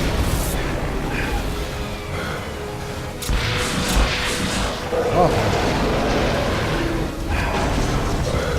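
Rocket launcher blasts and explosions boom in the video game Duke Nukem Forever, several heavy bursts over a rumbling game soundtrack while someone talks and exclaims over them.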